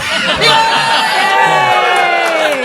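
Live comedy show audience cheering and whooping loudly for a stand-up comedian, a dense burst of crowd shouts and high-pitched yells sustained for a few seconds.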